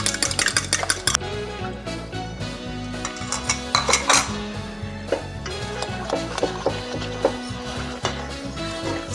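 Beaten eggs are stirred into butter tart filling in a bowl, bringing rapid clattering taps and scrapes of a utensil against the bowl, busy and close, with irregular bursts throughout and no voices.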